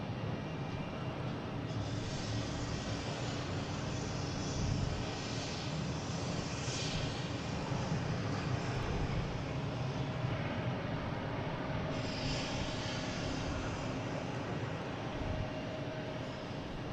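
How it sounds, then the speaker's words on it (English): A Cape Air plane departs Boston Logan for Nantucket with a sustained, loud engine roar that carries through the whole stretch, rising in brief swells. "we got a Cape Air heading to Nantucket"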